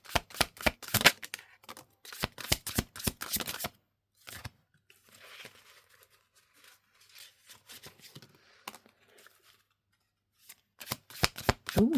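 Tarot cards shuffled in quick riffling bursts, with crisp flutters clustered at the start and end and softer sliding, tapping handling in between; close and fairly quiet, with no talking.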